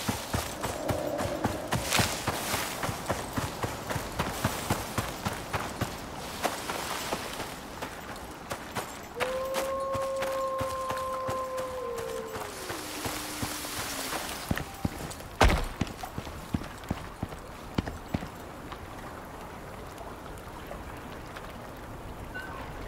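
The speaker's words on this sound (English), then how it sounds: "Come on over here, horse." Horse hooves clip-clop in the survival game Icarus, a steady run of rhythmic thuds lasting throughout, with a brief tonal whine rising and falling midway.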